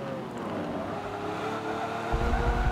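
A Lamborghini Reventon in the racing game Forza 7 drones on a steady, loud high-revving engine note. The engine surges and rumbles more heavily toward the end.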